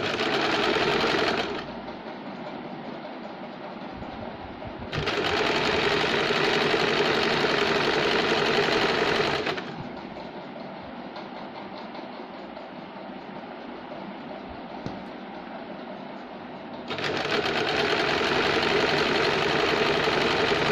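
Sewing machine running straight stitches along a blouse lining, with bursts of steady, fast whirring stitching separated by quieter pauses of low motor hum, close and alone without speech.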